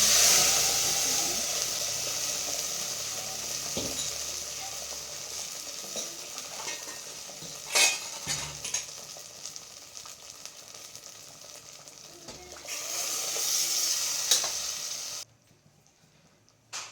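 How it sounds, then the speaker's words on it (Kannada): Onions and curry leaves fry in hot oil with a continuous sizzle, interrupted by occasional stirring clinks, before the sound abruptly drops away near the end. "ಒಗ್ಗರಣೆಗೆ ಈರುಳ್ಳಿ ಕರಿಬೇವನ್ನ ಹಾಕ್ಕೊತಾ ಇದ್ದೀನಿ"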